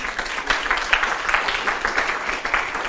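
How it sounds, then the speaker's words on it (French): Audience applause closing a live panel debate on European trade policy: a sustained, dense wash of many hands clapping steadily throughout, fairly loud, with no speech over it. "On peut vous applaudir."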